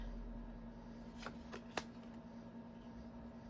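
A brief riffle of playing cards being shuffled, two quick crisp bursts over a quiet room hum, no voices.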